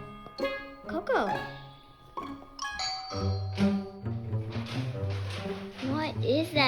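A doorbell chimes a ding-dong tone in a home, rung several times over the span, loud and close, with someone talking to a dog over and between the chimes.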